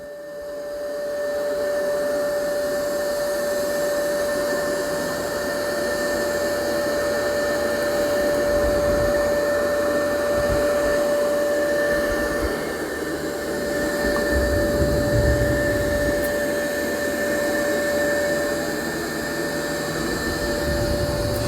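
A Yeedi M14 robot vacuum mop runs on carpet with a wet mop roller, giving a steady loud whine with a high tonal hum and a rough rumbling drone throughout, close by.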